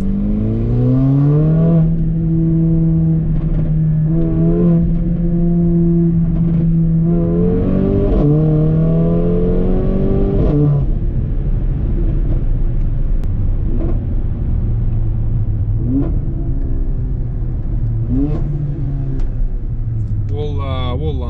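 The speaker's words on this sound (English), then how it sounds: "The shifts are so rapid, always on command. The burble is still there." A Mercedes-AMG GLA45 with a Eurocharged TCU tune revs and shifts quickly, its engine note climbing and dropping, then settling into a low, rumbling burble. The sound is loud and close, heard from inside the car.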